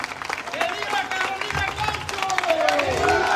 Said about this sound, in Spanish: Carolina, desde aquí te extienden este aplauso